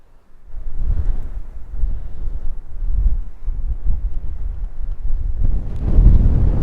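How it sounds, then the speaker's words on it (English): Wind gusts buffet the microphone in low rumbling bursts high on rocky crags on a blustery night, strengthening toward the end. "Still getting a gust through, but up on the top was really bad"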